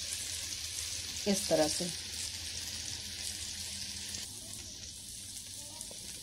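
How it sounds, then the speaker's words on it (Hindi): Paneer tikka roasts in a pan with a continuous close sizzle. A few brief bubbly crackles rise over it as the pieces are turned, and a voice speaks briefly. "अब हम इसे धीरे से उठाकर ऐसे दूसरे साइड से सेक देंगे।"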